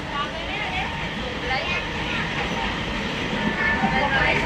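A passenger train runs on rails, with a steady broadband rumble and rattle of the carriage that holds at an even level throughout while a babble of chatting passengers carries on underneath.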